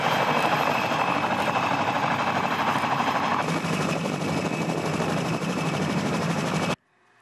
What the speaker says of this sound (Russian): Его смогут применять для перевозки пассажиров и грузов, а также для выполнения боевых задач в качестве легкого штурмового вертолета